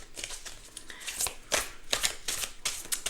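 Tarot cards are riffled and slid against each other in quick rustling bursts, close and fairly quiet, with a few sharper snaps as cards are drawn from the deck.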